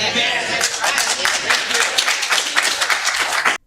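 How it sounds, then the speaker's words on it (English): Crowd cheering and clapping for the mayor at a Downey City Council meeting, a continuous dense applause texture with voices mixed in, cutting off abruptly at the end. "those people cheering in the background, they're cheering for the mayor"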